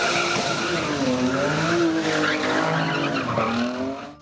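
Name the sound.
sports cars and motorcycles roaring at a Karachi auto show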